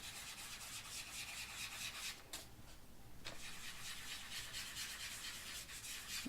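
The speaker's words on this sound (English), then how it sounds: "I'm just going to start rubbing in a circular motion." Pan pastel being rubbed in circular motions on an applicator pad, a faint, continuous scratchy rubbing with brief pauses, close and quiet with no voices.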